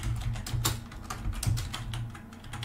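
Quick, light keystrokes on a computer keyboard, a rapid irregular patter of clicks close to the microphone.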